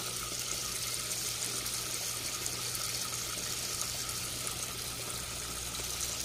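Steady trickling and gushing water runs through the channel of a hydroponic NFT system growing pak choi in Trinidad, a continuous, even flow heard close with no talk.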